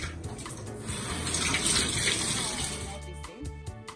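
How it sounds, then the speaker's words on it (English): Tap water runs steadily over hands being washed at a kitchen sink, a close, splashing stream that swells and then breaks into intermittent drips and splashes as the hands move. "wash my hands"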